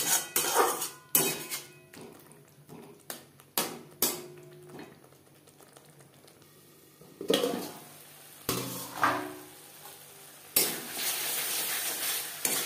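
Spice paste sautéing in a pan over low-medium flame with a little water added, for rohu fish curry with flat beans: bursts of sizzling between repeated spatula scrapes and knocks, ending in a louder sustained sizzle, with no voices.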